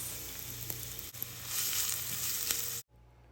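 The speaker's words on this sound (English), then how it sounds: "When the oil is warm, add the onions." Onions dropped into warm olive oil in a pan on medium-high heat, giving a loud, close, even sizzle that swells after a second and a half and then cuts off abruptly just before the end.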